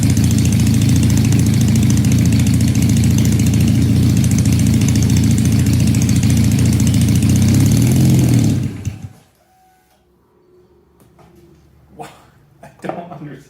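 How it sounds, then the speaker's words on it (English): A loud supercharged Honda CL175 motorcycle engine idles steadily with a rough, throbbing rumble, then cuts out abruptly, leaving near silence with a few faint knocks; the engine has a suspected vacuum leak. "the bike will be idling fine and then all of a sudden"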